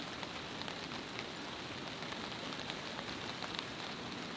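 Heavy rain pours steadily onto a car tent awning while camping, a dense, continuous patter with water running off the top, loud and close with no voices.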